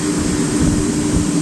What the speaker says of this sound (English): Here's the blower.